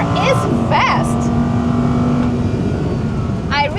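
Audi R8 V10 supercar engine droning steadily at speed, a loud sustained roar with shifting whine and rev changes, with a voice speaking over it.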